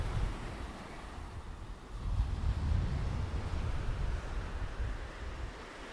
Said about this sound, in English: It's very windy, so I won't talk too much. I have to turn the audio down for all the wind and stuff.